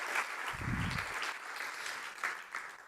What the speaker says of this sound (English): I love it that you're giving a round of applause